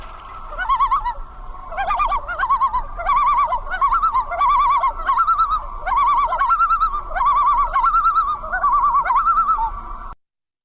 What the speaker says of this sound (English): you can speak about a common loon without the experience of actually hearing it